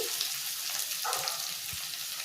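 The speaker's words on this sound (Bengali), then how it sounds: "পেঁয়াজ রসুন আমার ভাজা হয়ে গেছে। এবার আমি দিয়ে দিচ্ছি" Onion and garlic frying in a pan for a Bengali bottle-gourd fritter dish, giving a steady close hiss of oil with a few soft stirring scrapes, with no voice.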